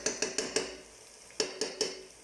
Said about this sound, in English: the onions have been frying for a couple of minutes, 2-3 minutes